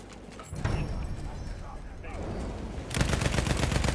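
Gunfire in the video game Battlefield 1, heard as a muffled stretch of shots that breaks into a loud, rapid burst of automatic fire in the last second, with a voice talking earlier.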